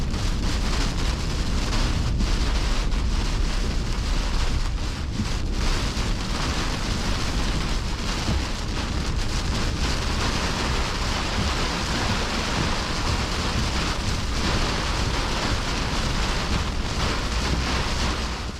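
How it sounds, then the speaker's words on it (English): Heavy blinding rain and gusting 70-mph storm wind batter a car on a Southern Michigan freeway during a severe thunderstorm, a continuous loud roar of rain on the body and buffeting wind with no letup. "70-mile-per-hour wind gusts coming across the freeway, blinding rain, frequent lightning"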